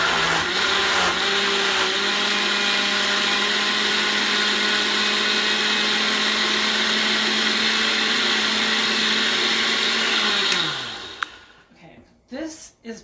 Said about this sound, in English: So then we're going to blend this in the blender.